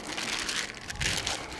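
A metallized foil packet holding a gas and smoke protection hood is torn open by hand, giving a close, crackling crinkle of stiff foil with sharp bursts over a second and a half.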